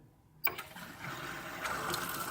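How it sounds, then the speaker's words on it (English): Running water at a homemade camp kitchen sink with a solar-powered switch starts abruptly after a short near-silent pause, then flows as a steady, close rush without speech. "This is my kitchen sink out at camp and"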